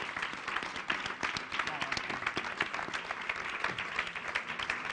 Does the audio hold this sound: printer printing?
no